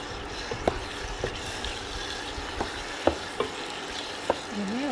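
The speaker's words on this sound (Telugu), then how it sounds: "వేసుకున్న తర్వాత మంచిగా కలుపుకోవాలి" Prawn curry gets stirred in a frying pan: a soft steady sizzle with about seven sharp spoon scrapes and knocks against the pan at uneven intervals, near and clear.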